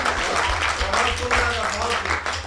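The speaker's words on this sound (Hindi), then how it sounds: "ये तालियां मेरी कविता पे बजा रहे हो कि सहानुभूति में?" Audience applause at a Hindi patriotic poetry recital, a short burst of scattered clapping from a crowd, moderately loud and steady for a couple of seconds with no voice over it.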